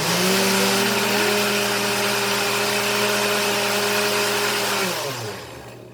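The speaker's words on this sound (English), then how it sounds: "I'm going to blend" A blender purées tomatillo salsa with a loud, steady whirring motor whine that runs for about five seconds and then winds down and stops.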